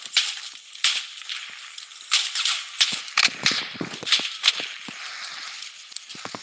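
Gunfire crackles in the Blood Strike shooter game, with rapid, thin, sharp pops in irregular bursts over several seconds, fairly distant and lacking low-end body.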